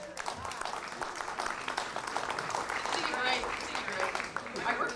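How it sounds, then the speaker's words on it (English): Audience applause at a Ms. Senior California pageant in West Los Angeles, a dense crowd of clapping hands that carries steadily throughout, moderately distant, with voices and cheers mixed into the room noise. "Let's have a nice round of applause for Gloria Davis."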